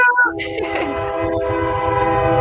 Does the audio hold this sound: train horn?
yes